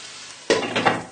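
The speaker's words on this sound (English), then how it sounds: "I'm going to put a lid on" A lid goes onto a pan of simmering butternut squash and lentil stew, a sudden scraping clatter after quiet sizzling, followed by a couple of short metallic shuffles.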